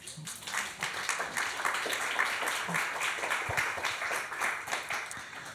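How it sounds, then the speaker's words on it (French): Audience applause at a French-language talk and debate, a steady wash of many hands clapping throughout with a few louder claps nearby. "Vous pouvez les applaudir"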